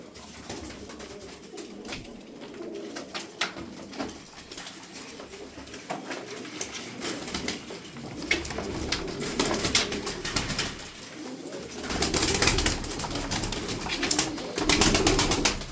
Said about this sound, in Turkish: Bakın oyunlu bu kuş ha.